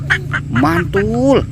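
A toy duck gives a string of nasal, rising and falling quacks, loud and close. A voice speaks briefly over it.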